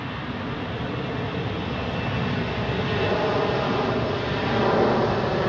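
A departing airliner at Zurich Airport roars continuously on its takeoff run, a broad steady rumble that swells slightly toward the end, heard from a distance with no voices.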